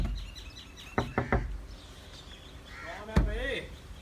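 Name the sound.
knocking on a door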